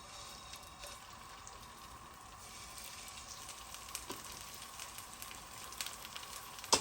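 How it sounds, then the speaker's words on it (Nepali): Chicken shallow frying in a little oil in a pan over low to medium heat, a faint, steady sizzle with scattered soft crackles and pops throughout. "ल हल्का सालो फ्राई गरिदिनुपर्छ।"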